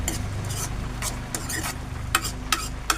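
Taykula greens being sautéed in a pan with turmeric, a soft frying sizzle beneath repeated scraping stirs and several sharp utensil clinks against the pan toward the end.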